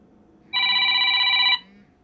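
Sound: smartphone ringing with an incoming phone call

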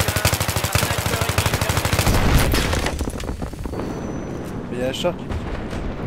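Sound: gunfire all around in the video game Battlefield 3

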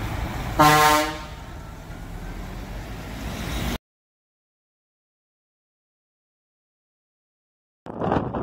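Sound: train horn on a P310 truck

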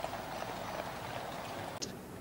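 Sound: horse guards' hooves clip-clopping on the street

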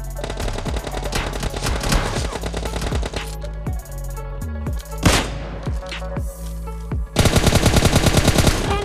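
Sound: gunfire in video game PUBG Mobile Lite

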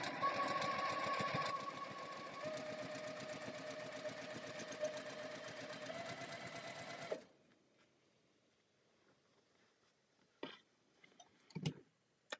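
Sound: sewing machine stitching with seam tape

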